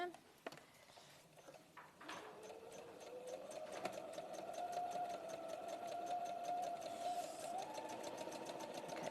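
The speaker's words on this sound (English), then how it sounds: "I'm going to sew my seam." A sewing machine stitches a seam alongside a zipper, running steadily and close for most of the stretch, with a sustained mechanical whir and rapid needle ticking that starts after a few brief clicks.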